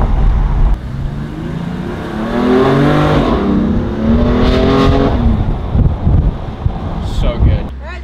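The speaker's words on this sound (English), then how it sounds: "The exhaust note." BMW F80 M3 accelerating hard, engine and exhaust rising in pitch through gears with wind buffeting the microphone, loud and close, a voice speaking partway through.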